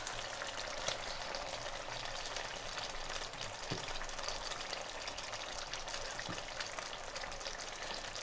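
Tomatoes go into a biryani masala frying in a pan, giving a steady, close, loud sizzle with dense crackling and spitting throughout, without any talk.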